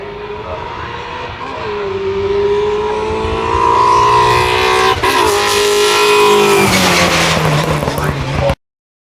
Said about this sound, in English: just launching off the line is the Mark 6 Escort of Carl Hopkins.